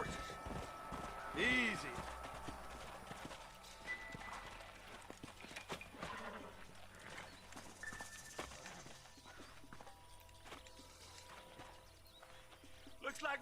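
Horse hooves clop rhythmically on the ground with a short whinny early on, under quiet outdoor ambience and a brief spoken word, in the video game Red Dead Redemption.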